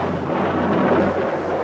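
A heavy rainstorm in a primeval setting roars as a dense, loud, continuous rumble and wash of rain with deep low-end thunder-like weight, no voices.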